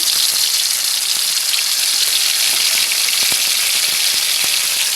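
Dried red chillies with ground cumin in hot oil, a dense continuous hissing sizzle with faint scattered crackles, loud and close with no speech.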